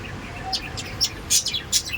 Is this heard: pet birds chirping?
yes